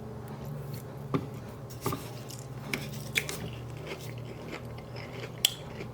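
Crunchy Japanese-style cutlets are bitten and chewed close up, with a handful of sharp crisp crunches spaced irregularly over quiet chewing and a low background hum.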